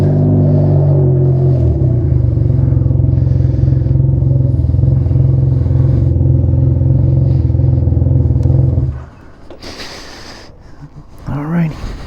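Loud exhaust of a 2021 Can-Am Ryker Rally motorcycle rumbling heavily and steadily up close for several seconds, then cutting off abruptly, leaving wind noise and scattered clatter.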